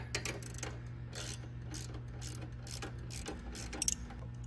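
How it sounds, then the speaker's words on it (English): Repeated clicking of a ratchet loosening a nut on a bolt, a steady run of short mechanical ticks over a low constant hum, close and fairly quiet, ending with a couple of sharper clicks. "The ratchet is used to loosen the nut."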